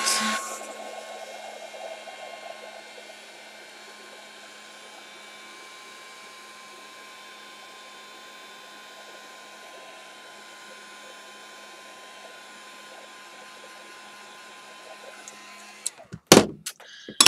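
A hair dryer runs steadily with a constant whir while drying a craft piece, then cuts off near the end, followed by a few brief knocks and clatters.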